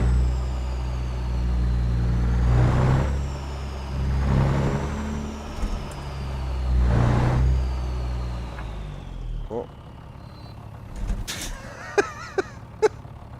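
A heavy truck engine in American Truck Simulator drones loudly with low rumble, rising and falling in several revving surges, then settles into a quieter idle with a few sharp clicks and hisses near the end.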